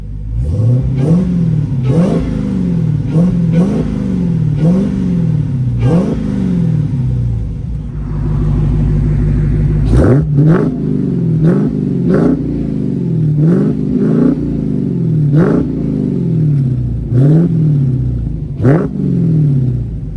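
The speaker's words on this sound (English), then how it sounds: "let's go ahead and give it a couple revs" A 2018 Dodge Challenger Demon's supercharged Hemi engine idles with a deep rumble, then revs up repeatedly in sharp, throaty bursts, each rising and falling back to a lopey idle.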